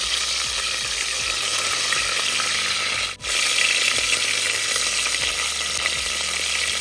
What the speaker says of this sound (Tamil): அழகாக சேர்த்து வதக்கிக்கலாம்.